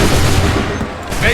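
Musket volley in Assassin's Creed 3, a dense burst of gunfire from a line of soldiers, loud and close, with battlefield commotion filling the background.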